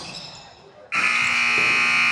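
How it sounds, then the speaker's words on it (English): A loud, steady electronic halftime buzzer at a girls' high school basketball game cuts in abruptly and holds its harsh, droning tone to the end, after a stretch of quieter arena background noise. "there is the buzzer"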